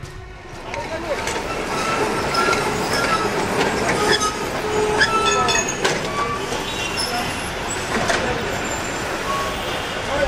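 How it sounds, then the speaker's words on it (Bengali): A tram rolls along city rails with a steady rumble of wheels and carriage noise, faint squeals and clanks rising over it throughout, heard fairly close and continuous, with a voice speaking now and then. "থানার কাজ মিটিয়ে হরিহর ছুটল ট্রাম ধরতে।"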